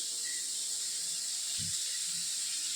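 Small onions frying in hot oil in a pan give a steady, even hiss, with a faint low knock partway through and no speech.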